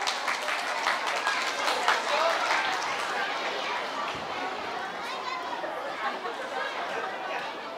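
An audience at a kindergarten graduation ceremony applauds, with dense, fairly faint clapping and crowd chatter that slowly fades.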